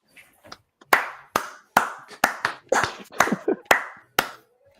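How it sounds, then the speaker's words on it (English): A few people on a sports preview podcast clap for a departing guest, loose, uneven claps ringing out close by in a scattered rhythm, about a dozen sharp hits with short gaps and no talking. "clap it up for Port, man"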